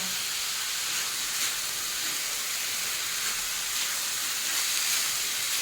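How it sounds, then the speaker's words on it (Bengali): Chana dal and a bay leaf fry in a pan over medium flame, giving a steady, even hiss of sizzling oil that holds at a moderate level throughout. "1-2 মিনিট ছাড়াই একটু উল্টিয়ে পাল্টিয়ে ভেজে নিতে হবে।"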